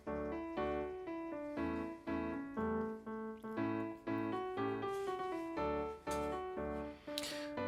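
A march-like bass line built on a strict repeating motive, part of a newly composed national anthem, plays in steady bar-by-bar pulses with sustained harmony above, ending in a brighter swell.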